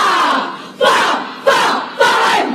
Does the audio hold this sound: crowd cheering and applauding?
yes